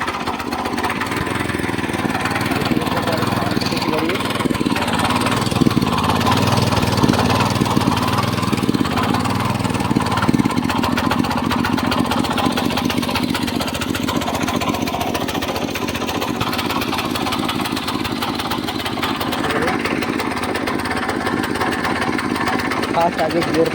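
A 7 HP mini power tiller engine runs steadily and loudly throughout, a close, continuous mid-pitched chugging with people talking over it.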